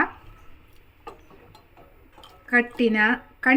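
Lemon-juice lentil rasam being stirred in a pot, a quiet stretch of faint ticks giving way to a few sharp metallic clinks of a utensil against the pot, close by, with a voice briefly audible.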